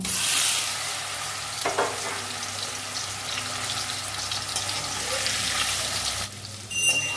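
Pieces of elephant foot yam fry in oil in a pan for a yam and potato curry, giving a steady close sizzle with occasional stirring scrapes and a brief break near the end.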